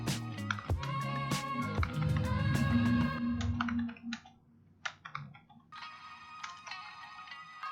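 Typing on a computer keyboard, a quick run of loud close clicks followed by sparser keystrokes, with a ringing tone layered through parts of it.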